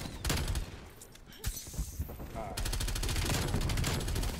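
Rapid automatic gunfire from the video game Black Ops Cold War, bursts of fast shots broken by a short pause, with a player talking faintly underneath.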